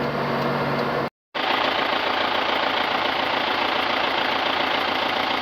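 A vehicle engine runs steadily under load while climbing a hill, a continuous rough, close drone broken by a brief dropout early on, with no talk.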